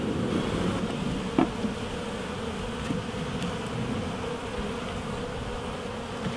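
Bees hum around a top bar beehive outdoors, a soft, continuous buzzing with an occasional insect passing closer, faint wind-like noise beneath.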